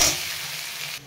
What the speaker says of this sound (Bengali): এদিকে আমার আলু ভাজাটা হয়ে এসেছে।